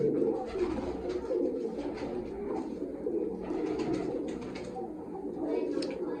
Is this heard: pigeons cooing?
yes